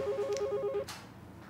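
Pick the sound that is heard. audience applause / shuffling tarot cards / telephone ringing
telephone ringing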